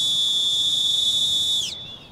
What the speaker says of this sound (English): You could try this jet scream whistle, which can make itself heard over most man-made noises